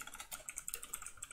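Light, quick keystrokes on a computer keyboard while code is typed, close and quiet, an irregular run of soft clicks with no talk.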